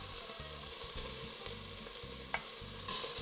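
Beef pieces frying in a pot for boeuf bourguignon, a steady soft sizzle with bursts of stirring and scraping at regular intervals, quiet and close, with no voices.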